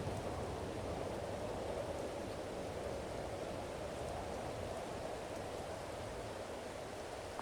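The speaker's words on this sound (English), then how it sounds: "I wasn't expecting it to rain today, so yeah, this definitely put a kibosh in my plans." Steady rain pours outdoors on a farm during equipment hauling, a dense, even hiss that never lets up, with no voices over it.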